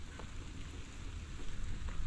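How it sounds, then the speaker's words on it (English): Steady rain falls outdoors on a muddy yard near hay bales, a dense continuous patter with soft low rumble and scattered drop taps, no voices. "so still raining out"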